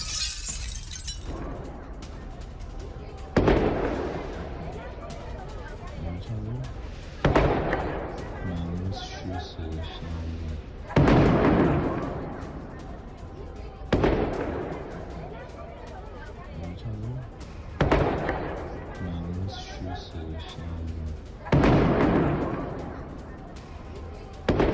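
Repeated heavy blasts in Tehran during an air defense engagement, about six sharp booms spaced every few seconds, each with a rumbling tail, loud and reverberant against a steady background of distant noise.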